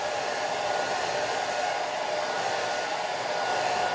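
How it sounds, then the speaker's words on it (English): A hair dryer blows steadily over a wet watercolor flower painting to dry it, a constant close whooshing roar with no breaks and no talk. "I'm going to put the blower back on."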